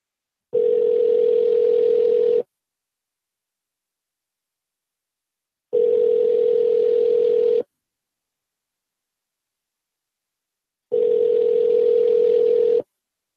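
A telephone ringback tone sounds before a call reaches voicemail, three long steady electronic beeps of about two seconds each separated by clean silent gaps, clear and loud.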